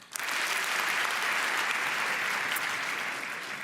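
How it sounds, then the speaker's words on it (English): A conference audience at a talk about trust claps in response to a show of support for Amazon, dense and even applause starting abruptly and tapering slightly near the end. "If you trust Amazon the most, clap now."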